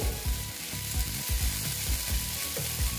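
Okra and egg fry together in a pan, a steady close sizzle cut by regular rhythmic scraping pulses of a spatula stirring the mixture.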